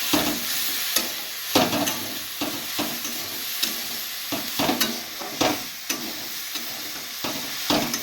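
Bitter vegetable curry with panch phoron, dried red chilli, ginger, salt and turmeric being stirred in a pan, a steady frying sizzle broken by repeated scraping strokes of the spoon, close and alone.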